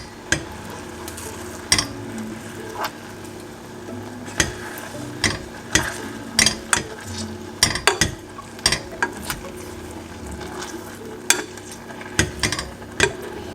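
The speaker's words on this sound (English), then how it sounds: "I'm gonna mash the strawberries with this." Strawberries get mashed in a bowl with irregular clacks and scrapes of the utensil against the dish, close and fairly loud, with soft squelching between the knocks.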